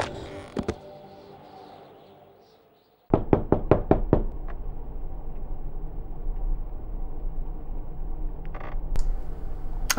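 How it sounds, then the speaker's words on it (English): Knocking on a door in an adventure video game: a quick run of about five sharp raps after a quiet lull, followed by a low background rumble and a few creaks. "there's a knock at the door, so we've got to go answer it"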